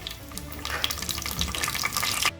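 Curry leaves drop into hot oil already holding fenugreek and cumin for a sardine fish curry, crackling and spitting in a bright, close sizzle with sharp pops throughout.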